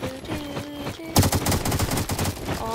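Gunfire breaks out in a shooter video game, opening with a loud sudden burst and continuing as rapid, repeated shots that sound close and fierce after a quieter first second.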